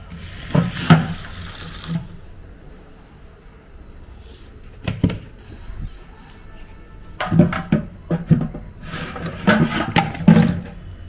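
Running tap water splashes over leaves in bursts, with pauses between rinses and some handling noise, close by.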